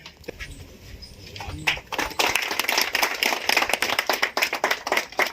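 An audience at a village agricultural meeting breaks into applause after a quiet start, building into a sustained wash of many hands clapping that continues to the end.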